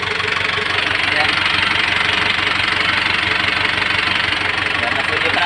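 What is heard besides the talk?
overhauled engine running without muffler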